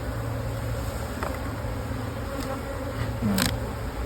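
Honeybees in an opened double nuc hive being worked with a smoker give off a steady, dense buzz close by, rising slightly in pitch, with a few brief louder passes from single bees near the end.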